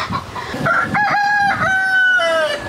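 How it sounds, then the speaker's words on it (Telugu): A young fighting rooster of the kind used in cockfights crows loudly and close, one long drawn-out call with a rising start and a sustained wavering tone, over faint background noise. "అయ్యో సంజు పుంజు. ఇవి పందాలకి యూజ్ చేస్తారండి, చిన్నవన్నమాట"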